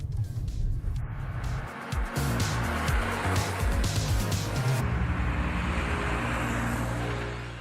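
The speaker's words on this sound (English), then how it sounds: "I'm cruising slowly down the very same familiar street in a red 100." A red Audi 100 cruises slowly down a street, its engine and road noise forming a steady, fairly loud drone with some brief tire sounds near the start.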